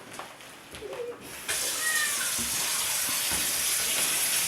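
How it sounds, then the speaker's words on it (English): A faucet suddenly opens and water gushes steadily into a sink while dishes are washed, loud and close. A few faint bumps and quieter sounds precede it, and a cat may meow faintly before the water starts. "Every day, gotta do the dishes."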